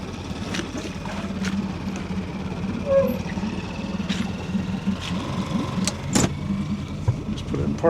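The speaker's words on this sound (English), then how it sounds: "Pull the windows down so I can see through." A vehicle's power windows whir down on a truck at a remote Alaska cabin, a faint motor hum under a running engine and scattered clicks and knocks, with a voice in the background.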